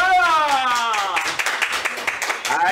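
Audience applause at an evening tropical music show, breaking out as a performer is welcomed; a dense patter of clapping builds under an announcer's voice and carries on steadily.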